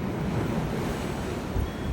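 Ocean waves wash onto a Hawaii shore, a continuous loud rushing surf with heavy wind noise on the microphone, swelling again near the end.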